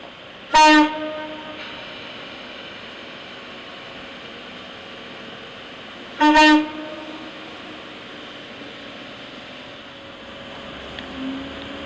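A Sydney K set electric train departing Casula station sounds two sharp horn blasts several seconds apart, loud and near, over a steady rumble of the moving train.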